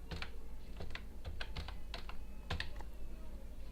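Someone types a web address into a Firefox browser on a computer keyboard, with close, crisp key clicks in quick uneven bursts and short pauses between them. No one speaks.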